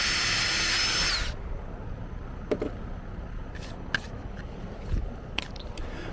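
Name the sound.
drilling holes in lawn mower chute repair pieces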